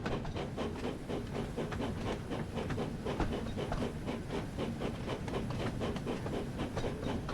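A steam locomotive in the Thomas & Friends Wonders of Sodor video game chuffs in a steady, rapid rhythm of heavy huffing beats over a continuous rumbling background, with no voices.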